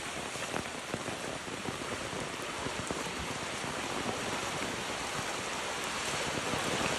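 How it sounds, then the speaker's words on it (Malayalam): Steady, dense rain pours down, a constant hiss with scattered drops striking surfaces, unbroken throughout and with no voices. "അത്രക്കും വെള്ളമാണ് മഴ പെയ്തുകൊണ്ടേ ഇരിക്കുകയാണ്"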